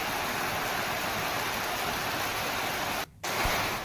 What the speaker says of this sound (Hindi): गरज के साथ ये तेज बारिश शुरू हुई थी